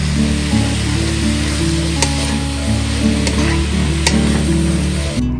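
Beetroot and carrots sizzle steadily in a hot pan while being stirred, a constant close frying hiss with a few sharp clicks from the utensil and no talking.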